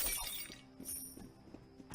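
Clay pots smashing in the PC game Five: Guardians of David, a series of shattering crashes at a moderate level over quiet background game audio.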